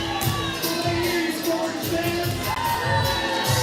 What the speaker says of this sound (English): The crowd is definitely into it here tonight at the Orchard.